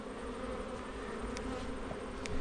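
Honey bees buzz in a steady, fairly faint swarm hum around a backyard hive during a honey harvest, with a few louder individual passes near the end.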